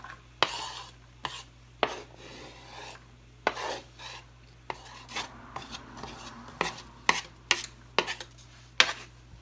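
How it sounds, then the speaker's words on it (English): Mushrooms dropped into melted butter in a pan for cabbage rolls with ground turkey, giving a run of scattered clinks, taps and scraping thuds over a faint steady hum, fairly quiet and with no talking. "I'm going to go ahead and add the mushrooms in there"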